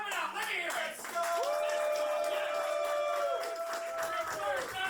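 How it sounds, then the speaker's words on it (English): Comedy club audience at a New York roast battle clapping and cheering loudly and steadily, with a hum of crowd noise and tonal sounds over the top throughout. "and clap it up. Let me hear it."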